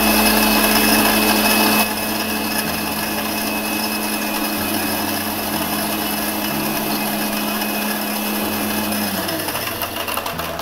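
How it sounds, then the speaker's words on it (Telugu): A blender running at high speed crushing ice cubes for cococane juice, a loud steady whirring drone with a brief change in pitch near the end. "ఇందులోకి షుగర్ కేన్ జ్యూస్ వేసుకుని ఒకసారి మళ్ళీ బ్లెండ్ చేసుకుందాం"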